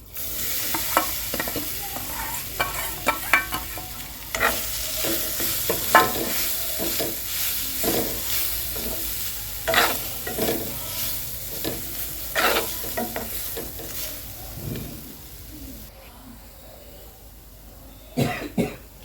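Dal frying in a pan, stirred with repeated scraping strokes over a continuous sizzle, close and fairly loud, with a few coughs or throat-clearing sounds mixed in.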